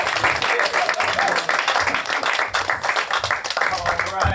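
A comedy show crowd applauds and cheers for a comedian taking the stage. The clapping and whooping are loud and close, mixed with crowd voices, and fill the whole moment.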